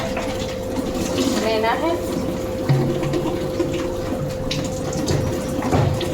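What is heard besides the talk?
tap water filling bottles for drinking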